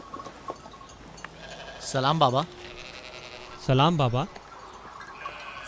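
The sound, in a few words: sheep bleating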